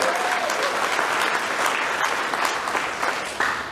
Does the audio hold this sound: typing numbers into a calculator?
no